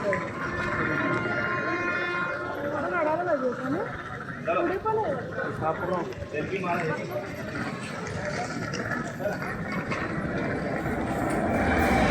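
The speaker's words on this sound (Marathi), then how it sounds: "ही म्हणजे आम्ही आलेली ट्रेन आता चालली आहे विशाखापट्टणमला चाललेली आहे" A passenger train pulls out of Pithapuram railway station bound for Visakhapatnam, its steady rumble and rolling clatter continuous and fairly close, with people talking over the noise throughout.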